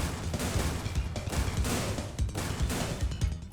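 Rapid gunfire from a top-down shooter made in GameMaker Studio 2, a dense, continuous stream of loud shots layered with game music and effects, no voices.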